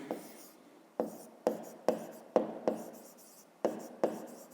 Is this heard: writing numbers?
yes